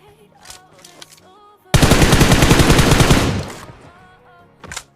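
Rapid automatic gunfire in the mobile battle royale game BGMI, a loud sustained burst of close shots lasting nearly two seconds, with quieter game effects before and a brief sound after.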